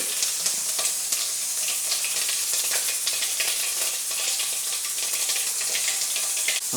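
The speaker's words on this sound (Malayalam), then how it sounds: "കടുക് പൊട്ടി വരുന്നുണ്ട്." Mustard seeds pop and crackle in hot oil in a pan while a Kerala-style erissery is cooked, a dense, continuous sizzle peppered with sharp bursts, close and loud, with no talk.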